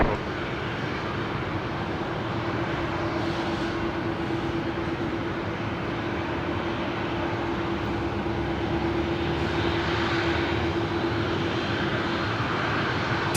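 A jet aircraft arriving from Canberra lands on runway 19 left at Brisbane Airport, producing a continuous, steady, loud engine roar with a broad rushing hum that stays nearly level for the whole stretch, with no talking.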